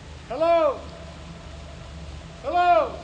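A voice calls out twice, about two seconds apart, inside a water tunnel just over 13 miles long, and each call rings on with a smeared, reverberant echo tail over a low background hum.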